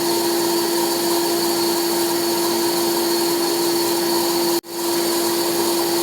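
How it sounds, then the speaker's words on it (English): A small green forge blower runs steadily at close range, a loud constant whirring drone with a strong steady hum, cutting out briefly once before resuming. "I'm really hoping the blower doesn't come across as too loud."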